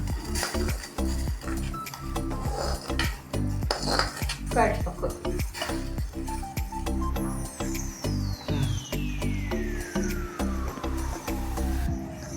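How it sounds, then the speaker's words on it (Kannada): A spoon stirs semolina and jaggery in a metal pot for bellada sajjige, making repeated close scraping and clanking strokes against the pot, with a faint rising whine late on. "ರವೆ ಬೆಲ್ಲ ಎಲ್ಲ ಮಿಕ್ಸ್ ಆಗೋ ತನಕ ಚಲೋತನ ಕೈಡ್ಸ್ಕೊಂತಿರ್ಬೇಕು"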